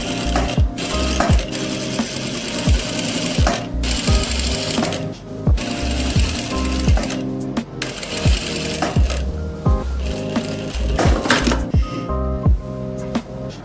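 A sewing machine stitches the sleeve of a kurti with a dense, continuous mechanical whir, threaded with rhythmic clicking and knocking from the moving parts, loud and close throughout.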